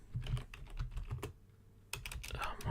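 Rapid clicking of keys on a computer keyboard, typed in uneven bursts with a short pause midway before the clatter resumes, close and fairly loud.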